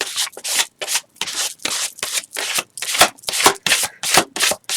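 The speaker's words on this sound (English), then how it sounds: "I'm just working it around the page with the card" A card scrapes paint across an art journal page in quick, rhythmic strokes, about a dozen close, rasping swipes in a steady back-and-forth pattern with brief gaps between them.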